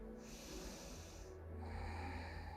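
A slow, deep nasal inhale during a relaxing yoga practice, close and quiet, drawn out as a steady breath over a soft background.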